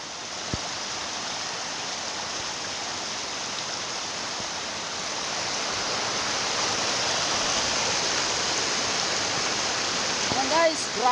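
Bangon Falls waterfall, a steady broadband rushing roar that fills the whole span and grows slightly louder midway, with brief speech near the end.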